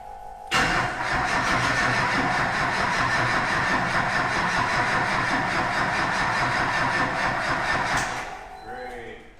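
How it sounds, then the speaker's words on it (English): A loud Duramax diesel engine in an OBS Ford truck with a very dead battery cranks over steadily for several seconds with a rapid, churning rhythm, then winds down as a voice speaks. "I'm so excited to hear this exhaust"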